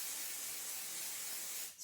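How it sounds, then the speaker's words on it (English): Pixie spray from an aerosol can hisses onto a paper stencil in one steady, close burst lasting nearly two seconds before cutting off. "Then I'm going to take my pixie spray"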